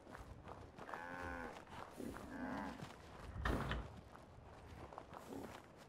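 Cow lowing in the Fallout 4 game world, two drawn-out moos close by with a rising-falling tone, followed by a thud and scattered footstep-like sounds, no speech.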